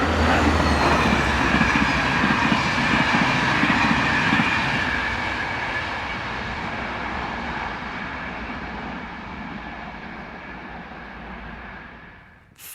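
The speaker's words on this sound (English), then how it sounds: "67432 heads south with the 1305 service from Nantes to Bordeaux" Locomotive 67432 hauls a southbound Nantes to Bordeaux passenger train past at close range, a loud rolling roar that gradually fades as it recedes before cutting off.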